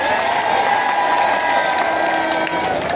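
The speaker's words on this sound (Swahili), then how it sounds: "Pigeni makofi tu." A crowd claps and cheers at an outdoor political rally with the deputy president present. The dense applause is steady and loud for about three seconds, with a tonal hum from a sound system running underneath.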